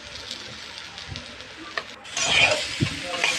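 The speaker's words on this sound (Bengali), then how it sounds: "এখন দিয়ে ভালো মতন এটাকে নাড়বো আমি খুব ভালো করে যেন ভেজে নিতে হয় এটাকে" Dal frying with turmeric and salt gives a soft sizzle while a spoon stirs and scrapes the pan. The sizzle grows louder and brighter partway through, with no talking.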